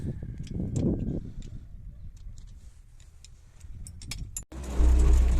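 MTZ-80 tractor pulling a chain of six harrows out to a dry field, a steady low engine rumble with rattling and ticking of metal parts, growing louder and closer toward the end.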